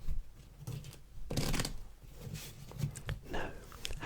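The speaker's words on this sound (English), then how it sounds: "take these 2 packs, flip one over, and shuffle together" Two packs of playing cards, one flipped face up, riffled together close and quiet in a soft ASMR setting, with crisp flurries of card flutter and small pauses.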